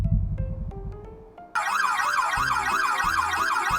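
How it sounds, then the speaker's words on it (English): Emergency alarm siren bursts in abruptly after a few quiet tonal notes, then wails loudly in fast, regular rising-and-falling cycles that continue to the end. "Darlene, kill the alarm and check the big board."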